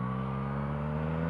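A Yamaha FZ09 motorcycle engine holding a steady, even drone at fairly high revs, loud and continuous for the whole moment.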